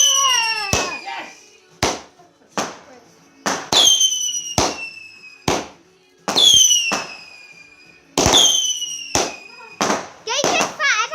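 Bonfire Night fireworks launched in a garden, a series of sharp bangs each followed by whistling, crackling trails, loud and close, repeating roughly every second, ending in a burst of crackle.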